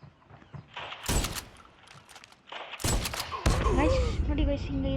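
Shots ring out in a Call of Duty match, with a few isolated bursts followed by heavier, louder volleys and ringing, sweeping game effects toward the end.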